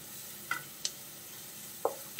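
Onion and sliced green chili sauté in a pan for samosa filling, a faint low sizzle broken by a few sharp clicks of a spoon against the pan, no voices.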